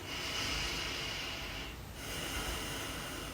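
During facial acupressure, one long, deep breath rushes in and out close to the mic, a soft airy hiss with a brief dip midway and no speech.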